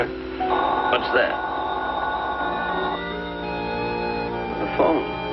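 Old-time radio show telephone ring sound effect, a steady electric bell tone running for about three seconds, then a voice speaking over the close, loud line.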